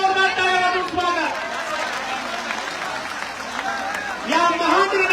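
A large Maratha community gathering applauds loudly in welcome at an outdoor mass rally, a broad wash of crowd clapping and noise running throughout beneath a loud amplified voice speaking over it.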